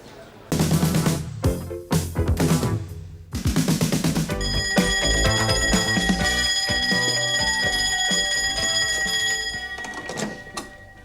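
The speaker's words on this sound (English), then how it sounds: "If you ring that bell once more for no reason at all, I'll cut your fingers off." A shop counter bell rings over and over in quick insistent bursts, loud and near, its bright tone ringing on, with brief sounds of people around it.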